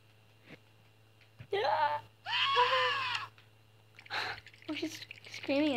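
A woman's eerie, wavering screams and moans in a haunted mansion video game, several drawn-out cries in bursts against a low steady hum, fairly loud and close.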